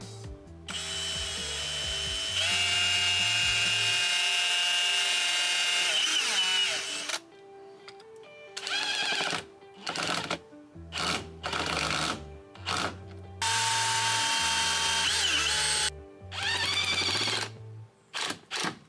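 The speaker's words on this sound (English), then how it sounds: "So we're just gonna pre-drill these, screw them into place" A power drill whines in repeated bursts, first a long steady run pre-drilling wood, then several short stop-start pulses as screws are driven into wood.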